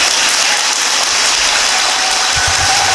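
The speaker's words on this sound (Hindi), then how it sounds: "जोरदार ताली बजाइए" An audience at a spiritual talk gives a loud burst of applause, with dense, even clapping that carries on throughout and no voices over it.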